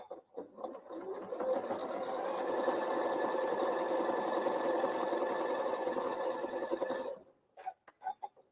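A sewing machine stitches a quarter-inch seam joining quilt block pieces for a diamond star block, a steady close whirring run of about seven seconds that stops abruptly, followed by a few small clicks.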